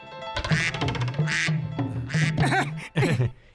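A cartoon duck, the golden goose from a Motu Patlu episode, quacks loudly in several close, rapid bursts, each a nasal honking call.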